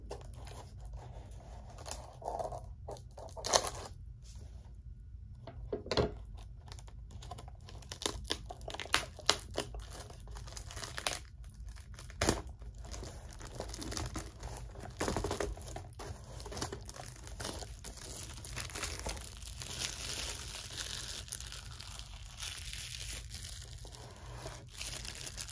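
Trading card packs, AEW wrestling cards, being ripped open close up: crinkling foil wrappers, sharp tearing bursts and rustling handling noises spread unevenly through a quiet, steady background.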